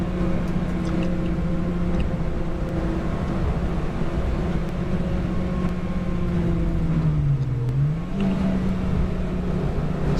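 Racing cars, including a Honda Civic Type R, lapping Donington Park in a race, heard as a steady engine drone with a gear-change dip near the end, continuous and moderately loud from on board.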